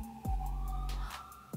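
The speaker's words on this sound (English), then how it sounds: "apologies for the sirens." A siren wails nearby in Boston, its pitch sweeping up and down in a steady rising-and-falling pattern that fills the whole moment.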